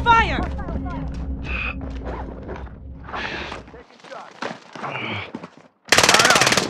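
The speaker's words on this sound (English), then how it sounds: "Under fire!" Gunfire in the video game Warzone, with scattered shots under voices, a brief lull, then a sudden loud burst of automatic fire at the end.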